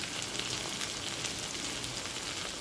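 Goat head curry frying with ground spices such as turmeric in a pan, a soft, steady sizzle and crackle, fairly quiet and continuous with no talking.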